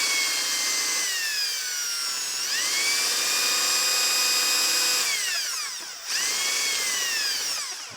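A power drill cuts out brass rivets on the handle of an HP 427A voltmeter with a loud, continuous high-pitched whine. The pitch drops and rises again as it bites into the metal, and a brief dip comes near the end.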